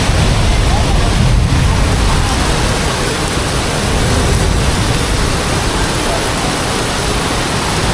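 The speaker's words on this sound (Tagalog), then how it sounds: "Naririnig nyo ba yung pagaspas ng ng ulan?" Heavy rain pours down in a steady, loud, unbroken roar of broadband hiss during a sudden downpour beside the Marikina River, sustained throughout with no clear breaks.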